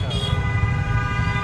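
Busy road traffic with a car horn tooting, a sustained honk over the rumble of engines, close and moderately loud.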